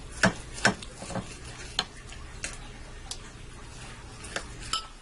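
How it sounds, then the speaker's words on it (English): Knife cutting through a maple mustard glazed roast pork on a board, a series of sharp, close taps and clicks recurring every half second or so over a quiet kitchen background. "I'm going to slice it all up."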